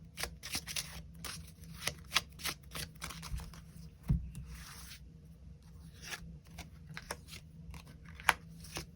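Tarot cards shuffled and drawn by hand, a dense run of quick papery riffles and slaps with a few sharper snaps, close and fairly quiet throughout.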